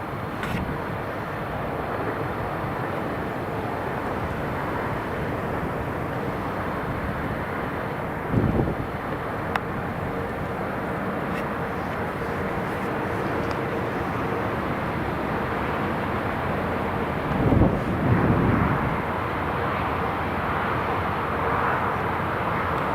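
An aircraft taxis at Newcastle Airport: a steady, broad engine roar mixed with wind rumble that holds for the whole stretch, with a couple of brief louder swells.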